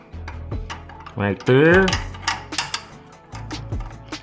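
A 17mm box-end wrench working loose the exhaust sensor on a Yamaha MT-09 SP motorcycle, giving close, sharp metallic clicks and scrapes in short irregular bursts, with someone speaking briefly between them.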